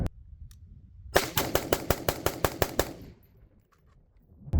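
Rapid burst of about ten rifle shots with FMJ rounds fired through a newly fitted XCR barrel during a function test, evenly spaced and loud, then quiet outdoor ambience.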